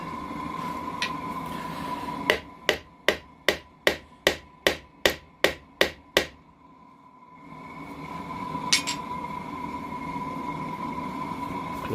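A hammer strikes metal ten times in a steady, evenly spaced run of sharp, ringing blows while a mobile forge is being built, heard close against a faint background hum, then stops.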